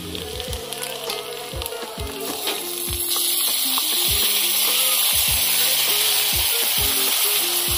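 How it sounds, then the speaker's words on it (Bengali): A spice paste of ginger, garlic, mustard, poppy seed and dried and green chilli fries in hot oil, a loud close sizzle that swells and holds steady, with intermittent scraping stirs and no voices. "দেখুন মশলাটা ভাজা ভাজা হয়ে এসছে।"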